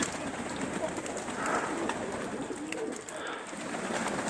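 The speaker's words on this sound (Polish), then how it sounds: "Jeszcze biały gołąb jest tam." Soft pigeon cooing comes through a background of outdoor hiss and noise, a few low murmuring calls spread across the clip, with a white pigeon among the birds.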